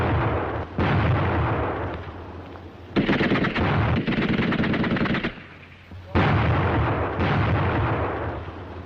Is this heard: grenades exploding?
yes